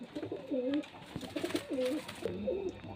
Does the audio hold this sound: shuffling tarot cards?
no